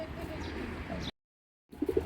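Racing pigeons coo softly in a loft, a steady low murmuring bed broken by a brief gap, then several close, throaty coos in quick succession.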